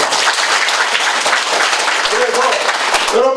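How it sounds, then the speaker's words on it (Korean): Dense audience applause during a Korean health lecture on amino acids, a steady wash of clapping that begins to fade as a voice starts speaking at the end. "아주 대단한 분에 박수 한번 쳐주세요."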